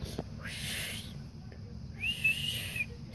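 A toy-review voice imitates a drill sergeant's whistle being blown, two shrill hissing whistle blasts separated by a short pause, with brief voice sounds between them.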